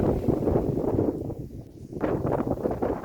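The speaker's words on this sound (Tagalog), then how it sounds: "ang lakas ng hangin" Heavy wind buffets the microphone in rough, low gusts near the summit of Mt. Talamitam, easing briefly midway before roaring back strongly.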